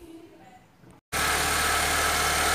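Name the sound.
Honda Civic FD car engine starting and idling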